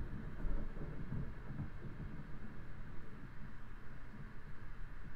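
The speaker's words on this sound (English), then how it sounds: "Obviously, my house is not big enough if I can still hear the thunder from outside." Distant thunder heard from inside a house during a storm rolls as a low, muffled, continuous rumble that swells and fades softly for several seconds, with no talking.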